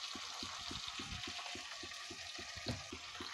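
Tomatoes fry in a pan for a watermelon kootu, giving a faint, steady sizzle. Soft, regularly spaced stirring scrapes run underneath it.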